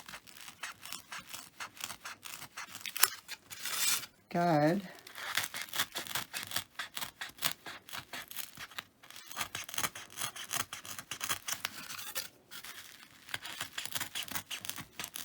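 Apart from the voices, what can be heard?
craft knife cutting foam board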